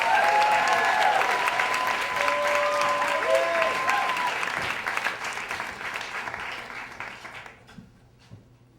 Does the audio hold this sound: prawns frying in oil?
no